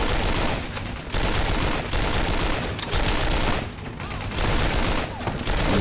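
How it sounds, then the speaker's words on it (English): Dense, continuous rifle fire from the Master 6 in the shooter game 7554, loud sustained bursts with brief pauses between volleys, no talking. "I don't think I've seen any other game that has this rifle, the Master 6"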